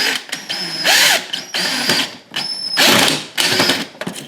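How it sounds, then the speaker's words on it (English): A number 8 socket tightens a nut on a tine of a Greenworks electric lawn dethatcher, giving loud, close ratcheting bursts in four or five spurts with short pauses between them and no talk. "Take my number 8 socket, put on the nut, and we'll tighten it down."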